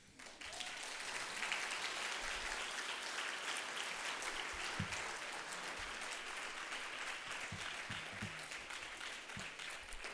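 An audience at a lecture claps steadily and fairly loudly for several seconds, a dense sustained round of applause with no talking.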